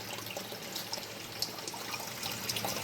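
Water trickles and splashes steadily into an indoor pond garden, a close, continuous babbling with small irregular drips and no talking.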